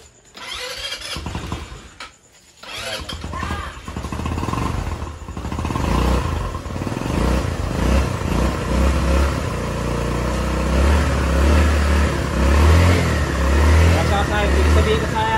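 A Rusi Macho 175 motorcycle engine, fitted with a 4-pin CDI, starts up and runs steadily close by, its low throb rising in a few revs while someone talks over it.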